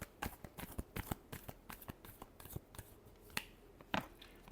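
Tarot cards are shuffled close up in a quick run of crisp riffles, slaps and taps, quiet and irregular, with no talking.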